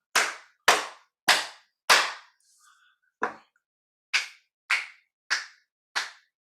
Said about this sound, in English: I'm going to clap my hands in front of my keyboard here, just under the monitor and under the microphone,